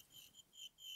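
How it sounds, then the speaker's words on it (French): A shaken cat toy gives off an electronic cricket chirp, three short bright trills separated by brief gaps, faint and close with no talk. "c'est un jouet pour chat et ça fait le bruit d'un grillon quand on le secoue"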